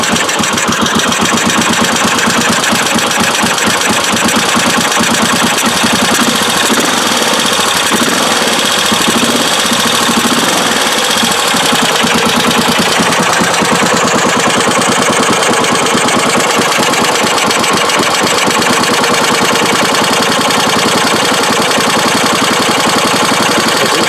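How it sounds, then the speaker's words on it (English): A Suzuki SP400 motorcycle engine running steadily up close, loud and continuous with a fast mechanical tapping from the decompression valve throughout. "So that tapping you hear appears to be the decompression valve."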